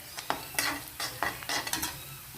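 Onions and chickpeas are stirred as they sauté for Kerala-style rava upma, with a spoon scraping the pan in quick repeated strokes over a soft sizzle, close and with no talking.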